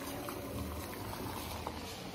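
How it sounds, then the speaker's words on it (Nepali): Eggs boil in water with a soft, steady bubbling and faint burbling in a quiet room. "अन्डा उम्लिँदैछ"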